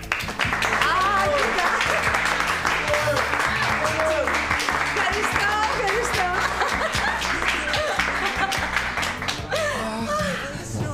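Sustained applause mixed with laughter from an audience in a Greek television comedy film, continuous and fairly loud for several seconds while voices talk over it, tapering near the end.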